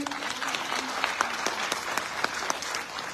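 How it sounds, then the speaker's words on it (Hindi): Audience applause at a Modicare noni juice training session, steady clapping from a crowd filling the room throughout, fairly close and moderately loud. "जोरदार तालियां हो जाए।"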